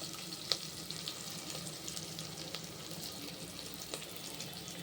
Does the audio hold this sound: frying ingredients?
yes